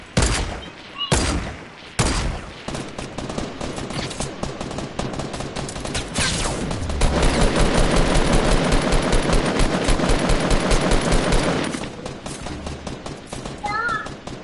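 Rapid bursts of automatic gunfire from a Fortnite Battle Royale match, loud and continuous through the middle stretch with scattered single shots around it, while players talk over the action.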